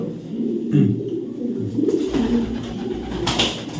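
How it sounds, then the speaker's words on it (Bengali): Racing pigeons of club stock, red and chocolate coloured, coo in low throaty rolls, close and fairly loud, with overlapping birds forming a steady murmur and no talk over them. "এগুলো ফ্লাই করানো কবুতর"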